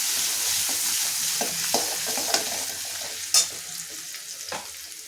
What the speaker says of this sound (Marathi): आणि अद्रक आणि लसूण दरदरी ठेचून घ्यायचं आहे आणि गुलाबी परतवून घ्यायचं आहे